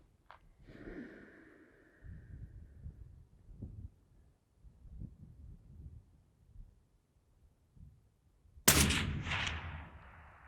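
A single sharp rifle shot fired at a 200-yard target cracks loudly near the end, with a lingering echo trailing off, after quiet breathing and faint shuffling sounds.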